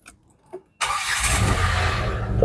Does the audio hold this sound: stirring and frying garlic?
no